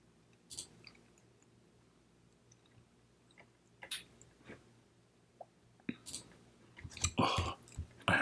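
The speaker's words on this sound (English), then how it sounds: "Oh, I have to stop clicking" Computer mouse clicks during a lecture on deep reinforcement learning: a few sparse, sharp clicks spaced seconds apart, then a quicker cluster of clicks near the end, with no talking.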